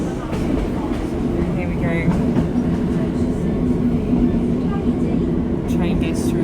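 A train on the Looe Valley Line in Cornwall rumbles steadily, heard from inside the carriage with a continuous loud roll and faint squeals, as someone talks over it.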